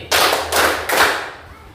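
A group claps in unison for a spirit chant, three sharp bursts in quick succession, loud and close with no voices over them.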